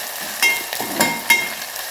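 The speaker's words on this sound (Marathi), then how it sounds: "आपण बारीक वाटलेले लसूण आणि हिरवी मिरचीचे ठेचाला छानपैकी तेलामध्ये भाजून घ्यायचे." Crushed garlic and green chili fry in oil with a steady bright sizzle, broken by a few short stirring scrapes and louder spits close by.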